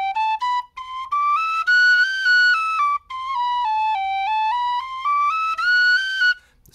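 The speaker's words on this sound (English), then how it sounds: "This whistle likes to have more fingers down." Tin whistle playing octave transitions, a clear solo run of notes climbing and falling in steps, with short breaks between phrases.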